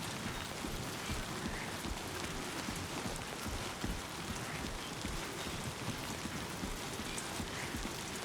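Timefall rain pouring down in the video game Death Stranding 2, a dense, continuous hiss of heavy rainfall with gusty wind noise and scattered drops, steady throughout.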